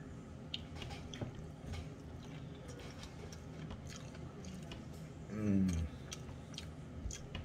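Close bites and wet chewing of a KFC chicken item with a french fry, soft squishy mouth sounds, with one louder crunchy bite partway through and no talking.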